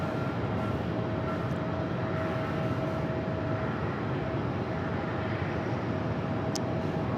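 A United Airlines Airbus A321neo arriving at Phoenix Sky Harbor airport, a steady broad jet roar with a faint sustained whine, loud and continuous throughout with no talking.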